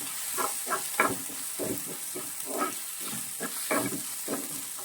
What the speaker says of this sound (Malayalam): തക്കാളി ആഡ് ചെയ്ത് കൊടുക്കാം നന്നായിട്ട് ഒന്നുകൂടി ഒന്ന് റോസ്റ്റ് ചെയ്ത് കൊടുക്കാം